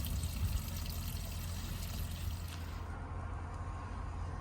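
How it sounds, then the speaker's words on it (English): Dirty water drains steadily from the waste tank of a 2025 Chausson X650 motorhome, a continuous close gurgling pour and trickle that carries on without pause. "all the dirty water will drain out of the tank"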